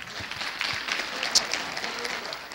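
Congregation clapping hands during a Sunday morning church service, a moderate spread-out patter of applause lasting a couple of seconds, heard from a distance with one sharper clap standing out.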